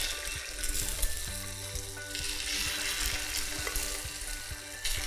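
Egg drizzled into hot oil in a pan for mini egg balls, producing a continuous close frying sizzle with scattered bubbling pops and light utensil clicks, no voices.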